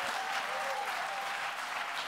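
A poetry slam audience claps for a poet, dense steady applause filling the room evenly without letting up.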